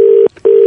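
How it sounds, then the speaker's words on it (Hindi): Steady disconnected-line tone after a call drops on a mobile phone, a continuous single pitch broken by one short gap before resuming, loud and alone. "कोई सिग्नल में प्रॉब्लम लग रहा है, फोन कट गया था"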